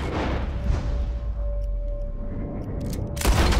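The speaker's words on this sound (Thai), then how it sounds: "ยิงปืนออกจากมือมัน" Gunfire in the video game Red Dead Redemption 2: a sharp gunshot at the start and another near the end, with a low rumbling tail and a faint steady tone between them.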